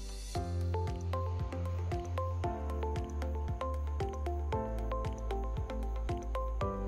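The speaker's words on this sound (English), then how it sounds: "I'm going to pipette up and down." Cell pellet suspension in DPBS being pipetted up and down with a motorized pipette, a humming motor broken by regular squishy pulses about every half second, close and moderately loud, with no speech.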